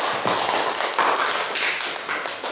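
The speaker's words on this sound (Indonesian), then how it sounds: "berikan aplaus untuk kelompok 3" A class applauds a presenting student group: a dense, steady patter of clapping from many hands in a room, sustained and fairly loud without speech.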